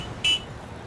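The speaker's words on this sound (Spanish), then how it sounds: "Pita para saludarme." A red motorcycle gives a single short, bright horn beep as a greeting on a city street corner, fairly close and standing out briefly above low street noise.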